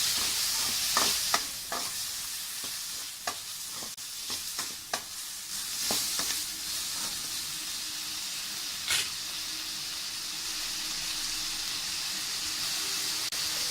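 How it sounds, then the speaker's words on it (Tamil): Chopped tomatoes and green chili sizzle gently in oil in a pan for sambar, a soft continuous frying hiss broken by several sharp stirring clacks and scrapes of a spoon. "அதையும் சேர்த்து நல்லா வதக்குங்க"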